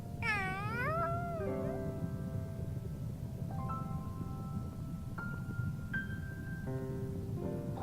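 Rolo, a cat in the Tales of Xillia 2 video game, lets out a single wavering, close meow at the start, followed by soft, sustained game music tones over a low background hum.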